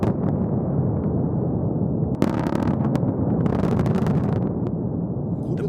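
A massive blast in a permafrost diamond mine, 330 tons of explosives breaking 400,000 cubic meters of ore, comes as a dense, sustained roar with sharp crackling bursts partway through.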